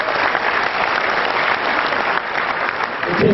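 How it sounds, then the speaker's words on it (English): An audience at a renewable energy business event claps together in a loud, sustained round lasting a few seconds, dense and even, swelling slightly at the end. "give yourself a round of applause"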